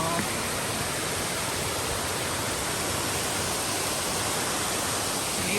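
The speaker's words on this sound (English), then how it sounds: "I love the waterfall." A waterfall on the Appalachian Trail in the White Mountains gives a steady, loud, unbroken rushing roar with no pauses.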